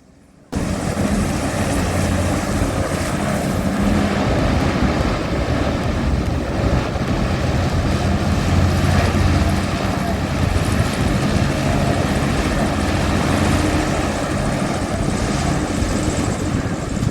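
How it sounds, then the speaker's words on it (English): A hovercraft runs on the Southsea to Isle of Wight crossing, its engines giving a loud, steady roar with wind buffeting that starts abruptly and holds unbroken for the whole stretch. "It was amazing, guys, to see the boat's powerful engines pushing it forward"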